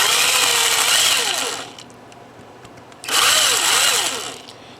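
A power drill with a dull bit cuts circuit board edges, whining loudly in two bursts, pitch sweeping up and down as it bites, separated by a quieter pause of about a second.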